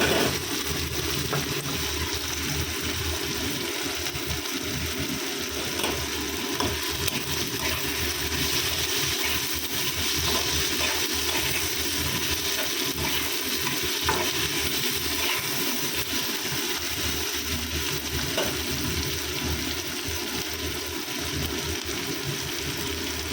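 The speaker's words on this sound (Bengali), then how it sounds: "রসুন, পেঁয়াজ, টমেটোটা হালকা করে ভেজে নিচ্ছি" Garlic, onion and tomato fry gently in a pan with nigella seeds, making a dense, steady sizzle that holds at an even level throughout with no talking.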